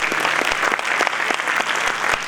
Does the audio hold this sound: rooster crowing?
no